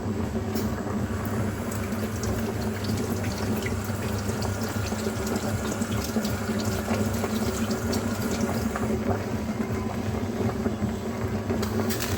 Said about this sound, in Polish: trochę kipi woda z garnka z ryżem